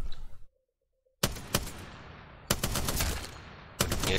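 Gunfire from a weapon in the video game Apex Legends: a loud burst at the start, a pause of near silence, then two more sustained rapid volleys of shots, close and harsh, with no talk.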